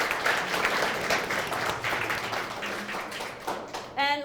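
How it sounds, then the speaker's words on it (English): Audience applause at a writing celebration event, a dense wash of many hands clapping at moderate level, thinning toward the end as a sharp tonal squeak or feedback chirp cuts in. "so if we can give her a round of applause"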